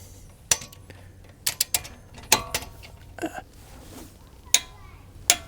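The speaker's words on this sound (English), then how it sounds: "I'm using 21 foot-pounds on my torque wrench" Torque wrench set to 21 foot-pounds tightening a front brake caliper bolt on a Ford Mondeo Mk5: several sharp, close metallic clicks and ratchet ticks at irregular intervals, with no talking.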